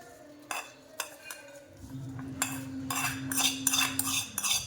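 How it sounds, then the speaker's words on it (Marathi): Green chillies with salt being pounded coarsely into Maharashtrian thecha, a series of close hard knocks and grinding scrapes that start sparse and become quicker and louder, with a ringing metallic tone early on. "त्यानंतर आपण ठेचा बारीक करून घेऊयात"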